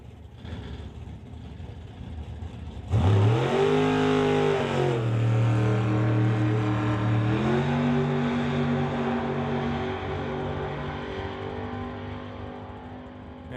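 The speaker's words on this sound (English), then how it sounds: "bringing on up the Super Gas Roadster. Car set up to run on a 990 index." A Super Gas Roadster drag car set up for a 990 index launches down the strip at a drag racing event. Quiet crowd ambience gives way to a sudden loud engine roar that climbs through the gears and then slowly fades into the distance.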